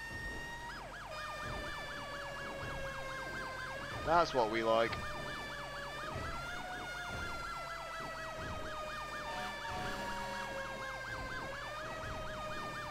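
A wailing emergency vehicle siren in a video game cycles steadily up and down, with a brief sharper whoop burst midway and a short spoken remark over it.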